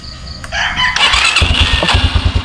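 A motorcycle engine cranks, catches partway through and settles into a loud, throbbing run, with a high crowing-like cry over the start.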